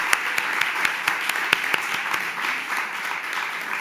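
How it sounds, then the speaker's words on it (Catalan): Audience at a panel on youth political participation applauding the European Youth Prize 2024 winners; a steady crowd of clapping hands with several sharp, close individual claps standing out, sustained for a few seconds without speech. "Jo crec que això els hauríem de donar un aplaudiment."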